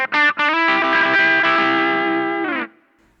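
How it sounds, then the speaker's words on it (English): Electric guitar played through a JHS Kilt V2 overdrive pedal set for a Tube Screamer-style crunch: two quick clipped stabs, then a sustained distorted chord that rings and cuts off sharply. "you can also get some really neat TS kind of sounds, Tube Screamer kind of sounds with it"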